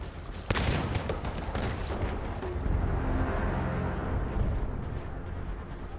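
Battlefield video game gunfire crackles through a distant battle, with a sharp near shot early on followed by a steady rumbling wash of far-off shooting and explosions, no voices.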